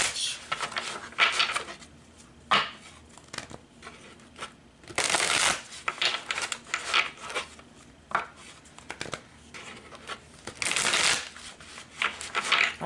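Oracle cards being shuffled by hand in a series of crisp riffling bursts and softer rustles, fairly close, with short pauses between handfuls and no talking.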